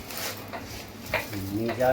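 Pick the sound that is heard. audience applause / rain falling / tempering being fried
tempering being fried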